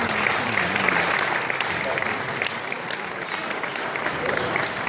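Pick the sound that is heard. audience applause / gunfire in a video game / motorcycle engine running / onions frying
audience applause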